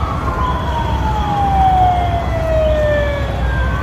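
An ambulance siren wails in steady rising and falling sweeps on a city street in Yunusobod district, loud and continuous over low traffic rumble, with a second siren seeming to overlap.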